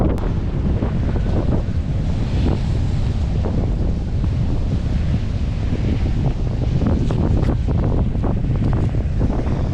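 Ocean waves wash over coastal rocks at Apollo Bay during rock fishing, a continuous loud surf roar heavily mixed with gusting wind buffeting the microphone.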